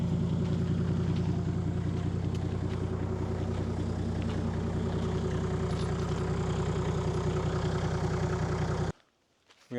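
A 4WD engine idles in remote Tasmanian bush, a steady low rumble that stays close and loud before it cuts out abruptly near the end.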